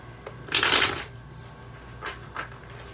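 A quick riffle of shuffling cards, loud and close, followed by two softer flicks of cards being squared.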